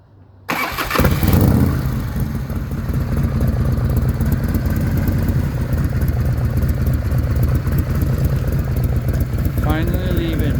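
A freshly rebuilt motorcycle engine fires up with a sharp start, then runs steadily at a loud, even idle close by, with a brief voice near the end.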